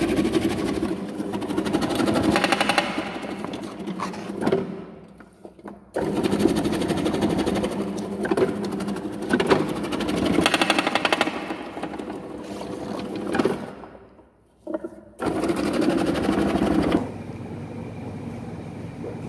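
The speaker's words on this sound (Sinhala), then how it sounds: "මේ වගේ ඉඟුරු පෙති කපන මැෂින් එකක් ආධාරයෙන් මේ විදියට පෙති කපා ගැනීම" Ginger slicing machine cutting ginger into slices, a loud steady mechanical whirring and chattering that runs in long bursts, stopping briefly twice before starting again, close to the microphone.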